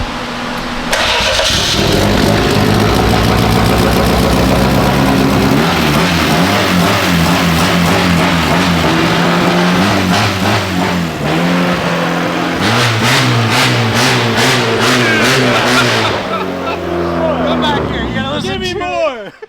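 A Volkswagen with a swapped BMW engine starts for the first time, revving hard and loud, rising and falling in bursts over a steady rumble, with people talking throughout.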